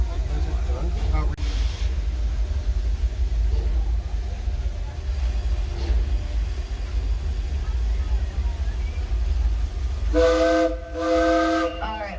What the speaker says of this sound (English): looks like we got the two whistles